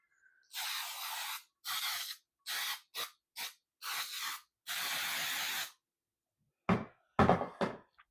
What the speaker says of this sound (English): you can just spray it with a cooking spray that has flour in it.